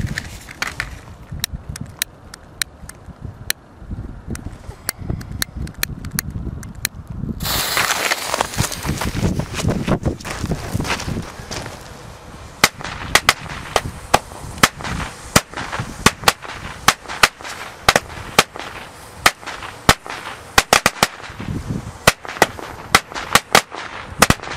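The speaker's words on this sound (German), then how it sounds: "Jetzt gehen wir weiter mit der 32er Machine Gun China-Knallerkette." A 32-shot machine gun Chinese firecracker chain from a Hong Kong set goes off outdoors, a long rapid string of loud sharp cracks and pops that grows dense and steady after a few seconds and keeps crackling to the end.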